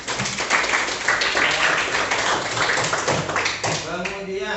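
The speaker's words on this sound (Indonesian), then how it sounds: "tepuk tangan dulu buat Nurul" Students in a classroom clap for a classmate who gave a right answer. The clapping is close, brisk and a little uneven, with voices rising through it near the end.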